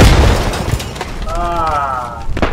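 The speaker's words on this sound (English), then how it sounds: "Oh, that's a grenade." A grenade explodes in the military shooter Squad during a hostage rescue in Fallujah, giving a loud, low boom at the start before a commentator talks over the lingering game noise.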